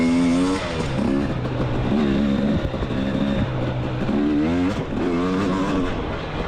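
A race car engine at Walnut Grove in Mid East racing screams through repeated rising revs and gear changes during a lap, loud and close throughout.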